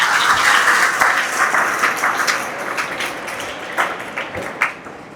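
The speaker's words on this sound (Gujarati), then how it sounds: "તાળી પાડો ત્યારે." A crowd at a natural farming workshop breaks into loud, sustained clapping, a thick wash of many hands that gradually thins out with a few late claps near the end.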